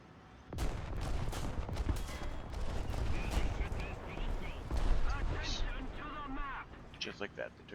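Rapid bursts of gunfire and scattered shots from a war video game, loud and dense for most of the stretch, with someone talking over it and game voice announcements near the end.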